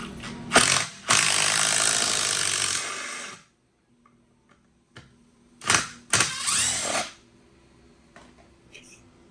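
A Ryobi 18V ONE+ HP brushless 1/4-inch impact driver on its highest mode 3 backs out a screw in two loud, rapid hammering bursts, separated by quiet pauses and smaller clicks.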